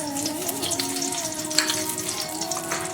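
Two tablespoons of cooking oil heat in a wok over a gas flame, giving a soft, continuous sizzle with light crackles and a tonal hum underneath.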